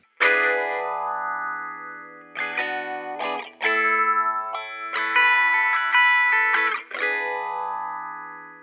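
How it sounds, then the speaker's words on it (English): Intro guitar with a thin, filtered tone like an old-fashioned radio, chords and arpeggiated notes ringing with effects, steady and fairly loud with brief gaps, no voices. "It sounded like a guitar being played through an old-fashioned radio or something."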